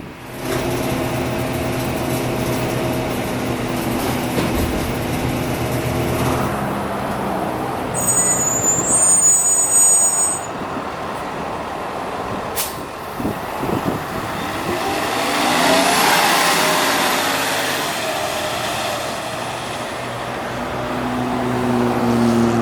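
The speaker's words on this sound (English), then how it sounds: "that was the type of bus that I rode on my last Marin Transit adventure. The medium-sized sort of bus." A medium-sized Marin Transit bus drives past on the road to Tiburon, its engine rising and fading over about twenty seconds alongside other passing traffic, with a brief high whine in the middle.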